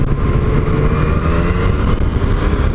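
A Yamaha MT-09 motorcycle engine roars loud and close in riding mode B, holding a steady, rumbling drone throughout with no voices.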